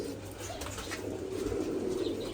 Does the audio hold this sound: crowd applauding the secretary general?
no